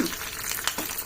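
A tempering of spices sizzles in hot oil in a pan while making pachi pulusu, a short crackling hiss with a few stirring scrapes, close and steady.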